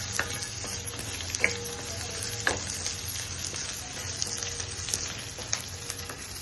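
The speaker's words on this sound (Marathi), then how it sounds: "ह्याच्यातच धने टाकून देऊया आपण आणि ही लसूण टाकून घेऊया आलं लसूण थोडस भाजून घ्यायचं" Onion, coriander seeds and garlic fry in a pan in a steady broadband sizzle, with a few sharper pops and stirring clicks scattered across it, close and even throughout.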